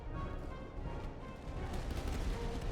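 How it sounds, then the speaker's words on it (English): Artillery fire in a Napoleonic-era strategy game battle with French and Hessian forces, a muffled barrage of overlapping booms and crackling shots rolling on continuously at moderate distance. "Our artillery is opening up."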